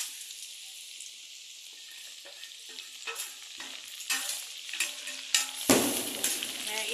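Green chillies hit a pan of frying beef for beef pickle: quiet at first, then crackling sizzle and spattering builds with sharp pops and bursts, close up.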